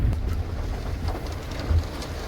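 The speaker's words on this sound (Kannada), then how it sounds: "ಮಳೆ ಸಹ ನೋಡಿ ನಮ್ಮ ವಿಂಡೋ ಫುಲ್ ಒದ್ದಾಗಿದೆ" Steady rain pattering on the window of a moving car, a soft, even wash of drops with a faint low rumble underneath and no voices.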